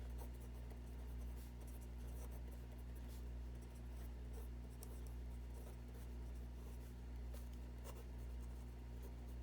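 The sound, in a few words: writing the solution set on paper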